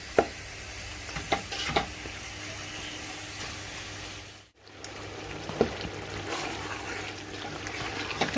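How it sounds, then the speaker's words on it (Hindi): Meat being fried with masala in a pot for a spinach, meat and potato dish, giving a steady close sizzle with occasional scraping stirs and a brief pause partway, with no talking. "अब हम इसी तरह से भूनेंगे, मसाला डाल के अच्छी तरीके से भून जाएगा।"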